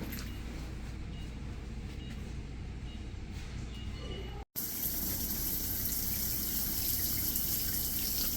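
Shower water runs steadily inside a travel trailer bathroom, a constant hissing spray that cuts out briefly midway and returns louder and brighter, with no talking.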